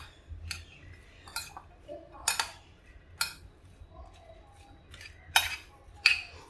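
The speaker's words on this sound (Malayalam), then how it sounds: "വിനാഗിരിയും ഉപ്പും മുളകും കൂടെ നന്നായിട്ട് മിക്സ് ചെയ്ത്" A spoon clinks against a bowl while vinegar, salt and chopped green chili are mixed, giving scattered sharp metallic taps at an irregular pace, close and fairly quiet.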